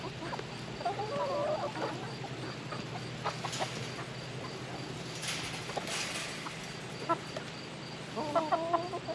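Backyard chickens clucking and murmuring softly at a distance, scattered short calls over a steady low ambient hum, with no talking.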